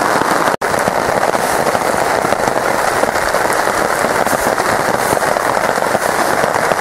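Rain falling outdoors, a dense, even patter of drops striking surfaces close by, loud and unbroken throughout apart from one brief dropout.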